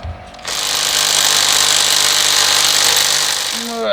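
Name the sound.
knockoff Makita power tool loosening bolts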